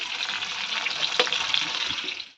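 Food frying in a pan, a steady bright sizzle throughout with a brief clink of a utensil midway and no talking.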